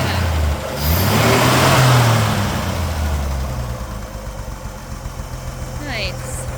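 The 1963 Ford F100 pickup's engine is revved, a quick rise in loud, close roar that swells once and then falls back toward a rumbling idle, with faint talk partly over it.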